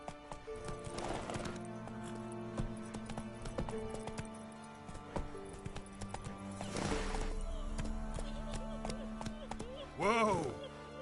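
Hooves clip-clop in a quick gallop through the Witcher 3: Wild Hunt game world, steady across the clip, with a horse whinnying near the end and faint game voices in the background.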